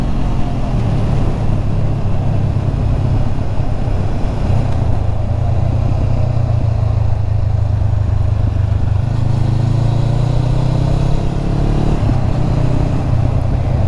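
A motorcycle rides through a series of curves on a winding road up the Exelberg, its engine droning steadily and close throughout, with the pitch rising and falling as the rider works through the bends amid rushing wind.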